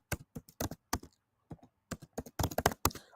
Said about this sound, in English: I'm just typing in there now